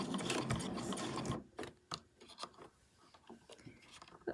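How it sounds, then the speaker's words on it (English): A sewing machine running blue thread stitches along a fabric edge, a close, fast mechanical whir at first, then stops and starts in short, fainter bursts. "I'm just sewing right on the edge there."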